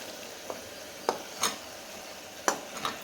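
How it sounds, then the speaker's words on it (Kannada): A few sparse clinks and scrapes of a spoon stirring mushrooms in an oiled pan for mushroom biryani, with faint sizzling underneath; isolated taps come at irregular intervals and nobody speaks. "ಲಾಸ್ಟಿಗೆ ಮಶ್ರೂಮ್ ಹಾಕ್ತಾಯಿದ್ದೀನಿ."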